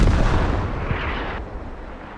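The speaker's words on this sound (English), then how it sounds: "Spawn artillery is going to be end. So press end and bombs away." An artillery strike spawned in the Squad video game lands as a heavy, booming blast with a rumbling roar that slowly fades, loud and close.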